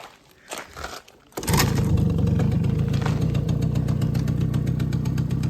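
Suzuki LT 50 ATV engine with a rebuilt carburetor and new air box, a few quiet pull-cord tugs, then it catches and settles into a steady, loud, buzzing small-engine idle.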